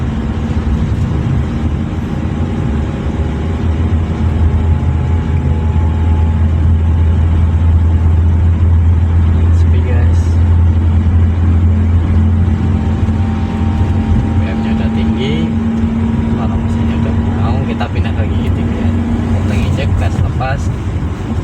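Engine of a manual car driven on a busy road, a steady loud drone with shifting pitch as the clutch is eased out and throttle added, under continuous road noise while a voice talks throughout.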